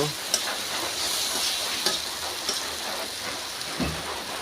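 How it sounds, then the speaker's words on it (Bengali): Boiled potatoes frying in a pan give a constant close sizzle with occasional soft clicks of stirring, alone without speech. "আলুটা আমি আগে সিদ্ধ করে রেখেছিলাম, অল্প ফ্রাই করে নেব।"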